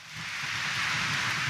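Rain falls steadily outside Quiapo Church during a morning Mass, a broad, even hiss that swells slightly and continues without pause.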